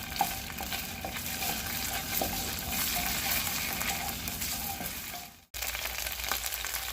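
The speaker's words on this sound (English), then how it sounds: "We want to add that to the oil just to cook off a little of that rawness" Close, steady sizzle of an ingredient cooking in hot oil for a pizza sauce, with light stirring scrapes and a brief dropout before the frying resumes.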